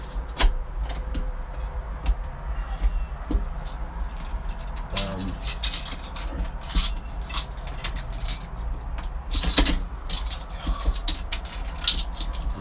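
Keys jangle in short metallic bursts during a morning open-mic session, clinking near and moderately loud over a steady low background hum.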